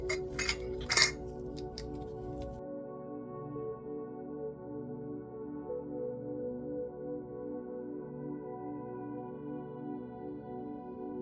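A metal teaspoon clinks a couple of times against a container while measuring tabu no ki (mako) powder for natural incense cones. The brief, close clinks come early and give way to a steady low room hum.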